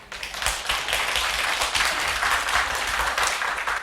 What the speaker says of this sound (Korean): 박수 좀 확실히 좀 쳐주세요.